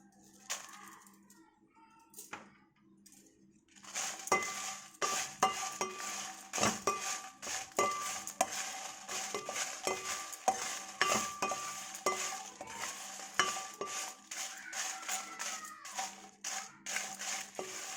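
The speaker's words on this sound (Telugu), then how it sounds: "ఈ మిరపకాయలని వేయించుకోవాలి." Dried red chillies fry over low heat in a pan while a utensil stirs and scrapes them in frequent uneven strokes, soft and close, with steady clicks and rattles.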